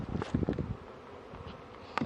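Bees swarm close around people covered in honey, a dense buzzing near the microphone with sharp rising and falling passes of individual insects.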